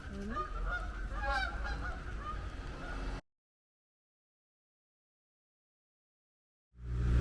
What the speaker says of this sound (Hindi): ये देखो बत्तखे, गूस है. हाँ, आई थिंक सो ये गूस ही हैं.